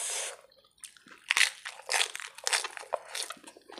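Close, crunchy chewing on blanched pork intestine dipped in seafood sauce, a quiet series of irregular wet crunches and bites with short pauses between them and no speech.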